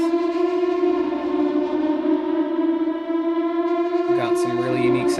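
Synth boss music for the game Outpost Delta, built on Rolly synth, Diva and Omnisphere: a loud, sustained droning tone, rich and buzzy, with a shifting stab entering near the end.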